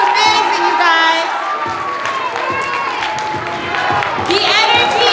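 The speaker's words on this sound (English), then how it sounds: "Can we give a huge, huge round of applause?" An auditorium crowd claps and cheers after a dance performance, loud sustained applause with whoops and high shouts rising over the clapping, and voices calling out close by.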